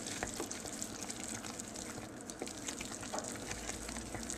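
Marshmallows stirred into a hot, melting fudge mixture of chocolate and vanilla give a steady soft bubbling sizzle with faint scraping, close and continuous, without talk.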